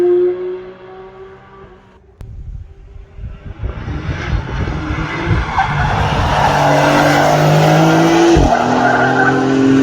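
A Porsche 992 GT3 Touring prototype on the Nürburgring approaching from a distance, engine note rising and swelling to a loud, close roar with rising tones and a brief squeal as it passes.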